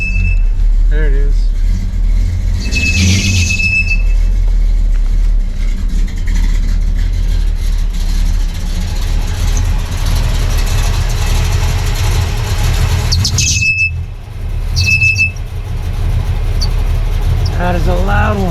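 A 1985 squarebody truck engine runs loud and steady, with a shrill squeal rising over the low rumble at several points, close by, as voices talk briefly around it.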